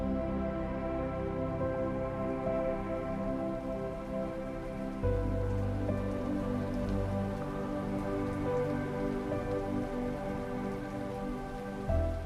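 Steady rain falling on a surface, a continuous soft patter and hiss that holds at an even level throughout, with no voices.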